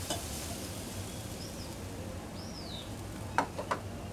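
Eggless omelette batter spreads across a hot pan with a soft, quiet sizzle, joined near the end by a couple of brief scrapes or taps of a utensil against the pan, with no voices.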